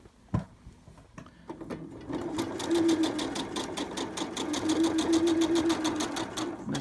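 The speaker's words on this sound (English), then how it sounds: "now what we need to do is to just stitch around to make this into the flap" A sewing machine runs a steady straight stitch around a fabric flap on a fidget mat patch, with a quick clunk at the start and then a continuous, even, close whirring hum.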